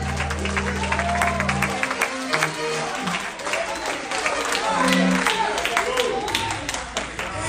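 A church congregation claps during a sermon, steady and fairly close, with scattered voices and shouts mixed through the clapping.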